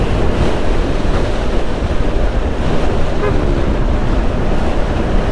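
Loud, steady roar of strong wind buffeting the microphone, a continuous broadband rush without pauses or voices.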